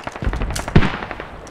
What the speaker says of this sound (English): Seeing some small arms fire west